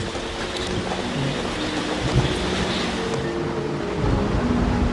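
Rain falls steadily on a forest clearing in gorilla habitat, a dense, even hiss of drops on foliage and ground that continues unbroken, with faint background animal sounds and no talk.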